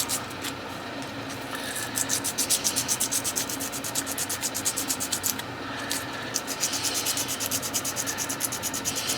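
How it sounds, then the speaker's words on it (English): Sandpaper rubbing plastic parts of an AMT 1963 Corvette model kit, a steady close scratchy back-and-forth rasp in even strokes with a short pause midway. "Sand out any high spots."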